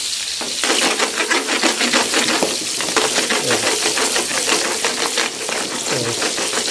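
A milkfish fillet fries in hot oil, loud crackling and popping sizzle bursting rapidly and continuously at close range, with a couple of low clunks from the pan.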